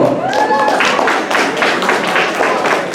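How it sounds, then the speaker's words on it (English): Audience clapping for the secretary at an event, a dense steady patter of many hands filling the whole stretch at close range, with a brief whistle-like tone early on. "Please give a round of applause for our wonderful secretary, Alice Dunkel"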